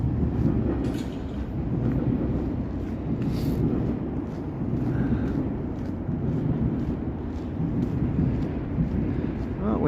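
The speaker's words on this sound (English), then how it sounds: "We missed another train." A train passing at night in Toronto, heard as a low continuous rumble with a windy, blustery wash, moderately distant and steady throughout, faint street noise around it.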